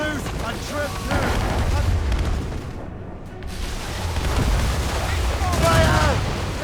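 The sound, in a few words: cannon broadside fire and explosions in Assassin's Creed Rogue video game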